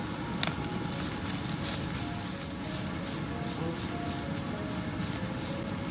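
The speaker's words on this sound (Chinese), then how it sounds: "下入豆腐干丁继续翻炒， 一两分钟后和笋丁一起炒匀，再下入香菇丁翻炒" Diced dried tofu, bamboo shoots and shiitake stir-fry in oil for Wuhan doupi filling, a steady close sizzle with occasional spatula scrapes and crackles, no voices.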